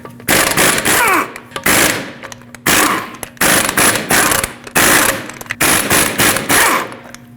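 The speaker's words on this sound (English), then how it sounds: "Use a 19mm socket, remove all 5 lug nuts, and then pull the wheel off." An impact wrench with a 19mm socket removes lug nuts from a 2013-2019 Ford Escape wheel in a garage, firing loud rattling bursts about a second each, repeated with short pauses between them.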